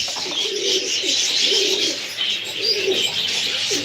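Soft, repeated pigeon coos in a steady rhythm, several low calls close by, with bright chirping birds filling the background.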